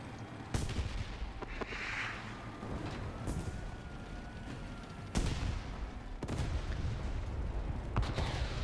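Tank cannon fire in War Thunder, with sharp loud blasts at intervals standing out over continuous engine rumble and battle noise.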